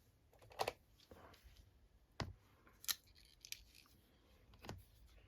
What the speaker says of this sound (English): I just want to snip those edges off.